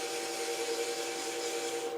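Sandpaper works a spinning burl wood box on a lathe, moving up through the grits toward 500, a steady soft hiss that runs without a break throughout.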